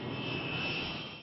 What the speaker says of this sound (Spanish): Los bombarderos B-47 con bombas atómicas a bordo estaban listos para despegar.